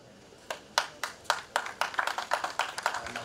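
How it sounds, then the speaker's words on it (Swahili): Scattered hand claps from a small audience at a memorial celebration of life, starting as single sharp claps and thickening into a steadier irregular patter, fairly close and moderately loud. "Makofi jamani."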